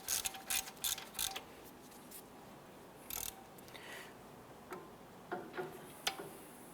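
A ratchet tightens caliper bracket bolts on a 2007-2012 Nissan Versa front hub, giving quick bursts of small metallic clicks separated by pauses, close but fairly quiet.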